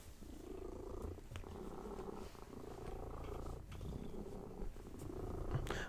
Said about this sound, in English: So I'm going to try and get the cat to just chill.